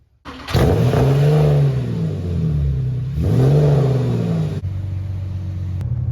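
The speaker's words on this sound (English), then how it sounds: "we're gonna get a cold start first" A Porsche 996 with a naturally aspirated 3.4-liter flat-six fires up from cold: a loud, close starter catch, then a high idle that rises and dips in two revving swells before settling into a steady rumble.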